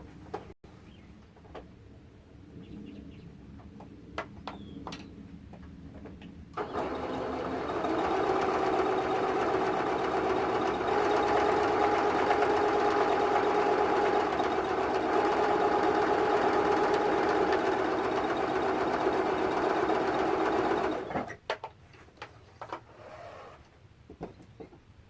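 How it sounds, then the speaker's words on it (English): A sewing machine runs a seam through quilt fabric on foundation paper, a steady close humming rattle for about fifteen seconds, framed by quieter handling noises before and after. "that is the seam that we're going to sew"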